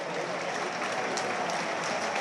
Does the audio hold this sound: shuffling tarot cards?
no